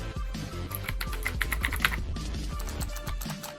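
Rapid, bright clacking of a TBI-Pro 107-key clicky mechanical keyboard typed in quick uneven bursts, close and crisp, with no talking.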